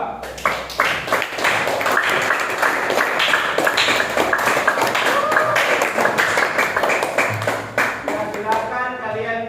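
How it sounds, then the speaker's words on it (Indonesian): Applause for a student group in a university classroom session, a dense patter of clapping running steadily throughout at close range, with voices and some chatter mixed in. "berikan aplaus untuk kelompok 2"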